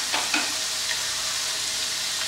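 Chicken curry masala sizzles in a pan, a close, even frying hiss with a few brief stirring scrapes near the start.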